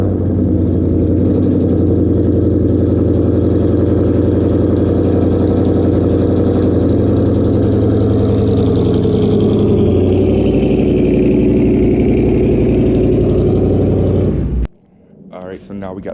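A Dodge Challenger fires up from cold and settles into a loud, close, throbbing idle that holds steady for about fifteen seconds before cutting off abruptly, with a voice talking over it.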